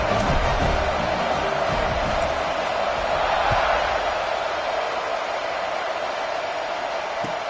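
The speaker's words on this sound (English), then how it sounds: "this crowd is buzzing after that last score" A stadium crowd at an American football game, tied in the third quarter just after a score, keeps up a steady, dense roar that holds at an even level throughout without any clear peaks.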